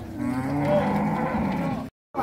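A calf at a cattle fair in Monte Alegre, Sergipe gives one long, loud, close moo that cuts off abruptly, with no talk over it.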